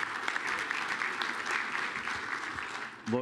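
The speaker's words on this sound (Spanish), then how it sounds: "reciban a Jordi con un aplauso" An audience claps steadily to welcome a speaker named Jordi at a technical talk on IPv6, the dense applause filling a hall and ending with a brief voice at the close.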